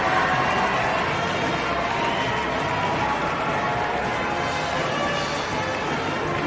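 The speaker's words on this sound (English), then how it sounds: "listen to the crowd" Crowd at a high school girls' basketball game after Westview's upset win over Fairfield, a dense, steady wall of cheering and shouting that holds at full volume throughout.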